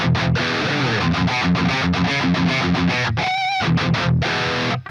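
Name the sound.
distorted electric guitar through Plexi amp plugin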